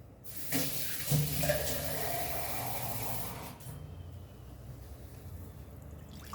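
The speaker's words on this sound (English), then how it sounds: "Now we'll add more water to this." Water pours steadily into a pot of Goan anchovy curry, a broad splashing wash that runs for a few seconds then eases into a quieter bubbling fill.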